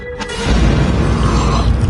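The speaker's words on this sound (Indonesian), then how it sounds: "dan tak lama kemudian ia pun meledak." Explosion effect in a horror film: a deep, loud boom bursts in after a short quiet moment and rolls on as a heavy, sustained rumble with creaking debris, no voices.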